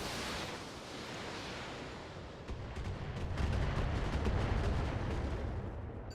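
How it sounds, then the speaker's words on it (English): Heavy mech weapons firing in the BattleTech game, including a Trebuchet's salvo, a dense rumbling roar of explosions and rapid impacts that swells and stays loud. "we'll finish it off Firing with our full Trebuchet, maybe."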